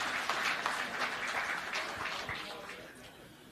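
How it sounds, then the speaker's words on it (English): Audience clapping at a national convention, a brief scattered burst of applause at moderate distance that fades out over a few seconds. "You can appreciate, you can clap for that."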